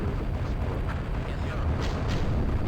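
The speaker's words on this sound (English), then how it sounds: "Here, everything's exploding." Structures being blown up in the strategy game Command and Destroy, a rolling series of deep booming explosions overlapping into a continuous rumble, loud and sustained across the whole stretch.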